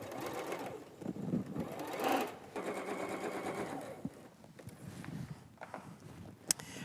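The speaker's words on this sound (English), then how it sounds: "sew it together to make one of our finished units" Sewing machine stitching two small pieced quilt units together for a flowery wall hanging, a fast close whirring run that slows and stops, followed by softer handling clicks.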